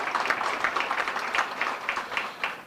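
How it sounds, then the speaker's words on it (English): An audience applauds a steel pan player at a Caribbean Week opening ceremony in New York, a dense, steady burst of clapping throughout. "Let's give him a round of applause."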